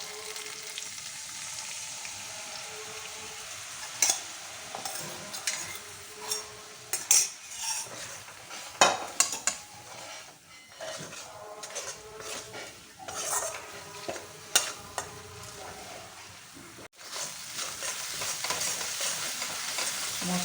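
Spice paste sizzles and fries in a pan for a vegetarian jackfruit kofta curry, with a utensil scraping and clinking steadily against the metal throughout, close and continuous, with no talking.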